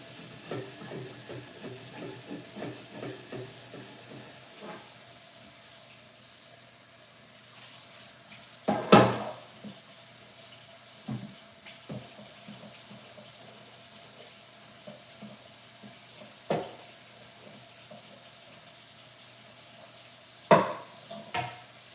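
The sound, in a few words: tap water running while scrubbing something in the sink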